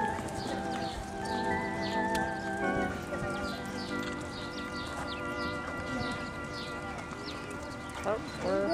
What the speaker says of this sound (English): Ask your horse to canter now, if you would, exhibitors.